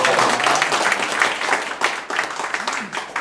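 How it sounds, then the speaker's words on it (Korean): Applause from a crowd at the opening of a campaign office, a broad, even rush of clapping that fades slightly toward the end, with a voice faintly underneath. "박수가 좀 나와야 되는데."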